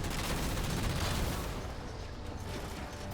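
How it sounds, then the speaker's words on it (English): A vehicle's main gun in Halo Spartan Ops fires in long sustained bursts that form a continuous loud, dense roar of rapid shots, easing slightly toward the end. "So you'll notice that I'm getting pretty long bursts on my main gun"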